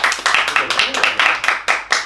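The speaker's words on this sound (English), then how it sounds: "Clap." A small group claps in a quick, slightly uneven rhythm, about nine sharp bursts close to the listener, with some talking mixed in.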